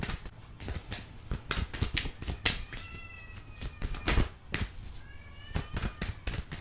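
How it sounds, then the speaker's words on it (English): A house cat meowing twice, faint drawn-out calls amid clicking and tapping noises in a quiet indoor room. "I don't know if y'all can hear my cat,"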